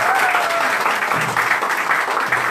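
Warm applause from an audience at a hairdressing school's graduation ceremony as a graduate, Samia, stands holding her diploma; the clapping is dense and sustained throughout, filling the room without pause.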